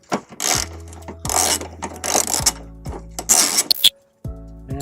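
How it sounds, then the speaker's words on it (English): Quick ratcheting clicks from a socket ratchet come in several separate bursts as two 17mm bolts holding the exhaust bracket on a 2003 Subaru Forester are loosened, close and clear, with short metallic clinks and pauses between the runs. "we can go ahead and take down 2 17mm bolts holding the exhaust bracket in"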